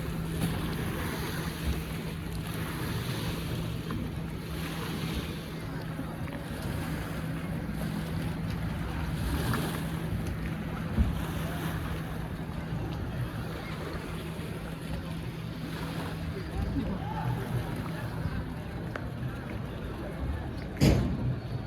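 Waves wash continuously under gusty wind, with a low steady hum beneath and muffled voices now and then.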